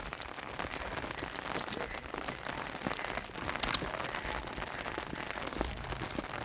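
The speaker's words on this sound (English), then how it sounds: "It's raining here right now." Rain falls at the Madmaheshwar temple on the Madhyamaheshwar trek in the mountains, a dense, crackling patter on surfaces that stays steady and moderately loud throughout, with scattered sharper drops and no voices.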